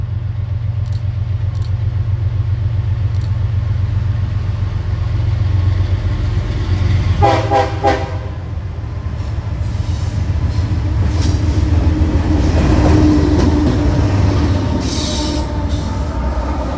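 A CSX freight train, the M542, rolls past with locomotives near a tunnel, a steady loud low rumble of wheels and engines throughout, with a brief burst of clanking rail noise midway and squealing wheels toward the end.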